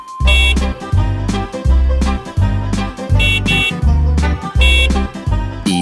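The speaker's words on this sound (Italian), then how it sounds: "Il clacson del bus fa bip bip bip per tutta la città." A cartoon bus horn in an Italian children's song: a run of bright, evenly spaced beeps repeating in steady rhythm over a bouncy musical backing, loud and close.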